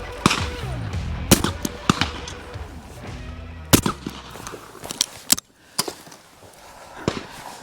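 Shotgun blasts at clay targets ring out outdoors, roughly nine sharp reports spaced irregularly across a few seconds, each a loud crack with a short decaying tail.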